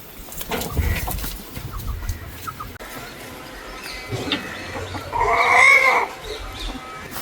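Hens cluck around the grandparents' farmyard where eggs are gathered, scattered, moderately close calls rising in a short burst amid faint outdoor background.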